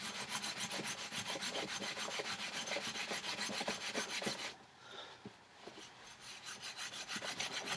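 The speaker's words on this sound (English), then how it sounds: "You can feel it get more and more slippery and less rough as you go up and down with the steel wool" Steel wool scrubs rust off a motorcycle exhaust in steady, rhythmic up-and-down rasping strokes, close and even, pausing briefly midway before resuming.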